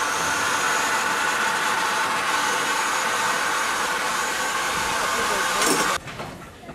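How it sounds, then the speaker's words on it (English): A train runs along the line between Wyndham and Durham with a steady, loud rushing roar and hiss, heard close by before cutting off abruptly near the end. "this actual train, it goes along the train line in between Wyndham and Durham"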